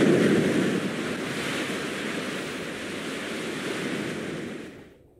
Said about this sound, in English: Look at the huge ocean. Miles and miles of water.